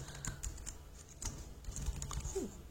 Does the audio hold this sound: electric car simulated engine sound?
no